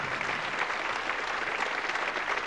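Audience applause for contestants at a 1988 Icelandic singing competition, a steady dense clapping from a large crowd that holds evenly throughout with no talk.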